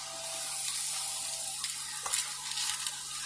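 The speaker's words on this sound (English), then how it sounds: "So I put it in the frying pan," Gluten-free vegan shredded chicken sizzles in a frying pan, a steady bright hiss with a few soft stirring scrapes near the end.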